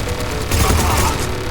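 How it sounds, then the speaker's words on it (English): Dense rapid gunfire rattles in a Mass Effect 3 firefight, loud and close, a continuous burst of overlapping shots with no pause. "Who's shooting at me?"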